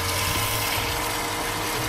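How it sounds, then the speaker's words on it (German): Water pours into the tank of a Muc-Off mobile pressure washer, making a dense, steady rushing gush at close range for the whole moment. "Da kommt Wasser rein."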